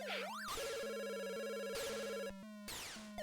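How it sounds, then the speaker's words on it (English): Chiptune telephone ringing from an NES video game trills in a loud, repeating electronic pattern, warbling beeps over a steady buzzing tone with short breaks between rings. "Also, telephone noises."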